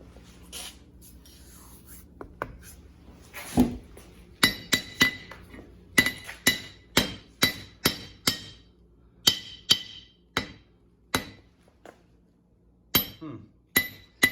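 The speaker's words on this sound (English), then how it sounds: "So just knocking on it with my hammer." Hammer knocking on a Harbor Freight anvil, a series of sharp ringing metallic clinks, irregular at first and then fairly evenly spaced, close and loud with no talk.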